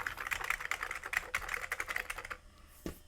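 Keys on an Amiga 1200 keyboard, including a replacement yellowed spacebar, are pressed in a quick irregular run of close clicky taps, followed by a short pause and one last soft knock, with no talking.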